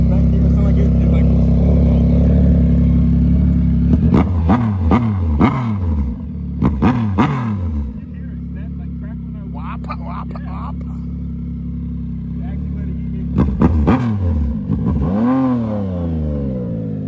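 Car with a turbocharged engine being revved in a garage, loud and close, with several sharp rising revs and falls over a constant low rumble and talk nearby.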